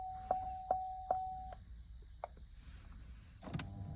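Small electric blend door actuators in a fifth-generation Chevrolet Camaro HVAC system whir faintly during a relearn, with a few soft clicks and brief motor tones in a quiet cabin.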